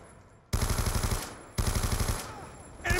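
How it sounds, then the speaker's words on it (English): Two loud, close bursts of rapid machine-gun fire from the Call of Duty Black Ops 2 shooter game, each cutting off sharply after about a second, with a third burst starting at the end. "Taking sniper fire from the catwalk."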